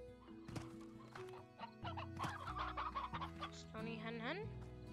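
Hens in the video game Slime Rancher cluck in short, repeated bursts, with game music and effects mixed in at a low overall level.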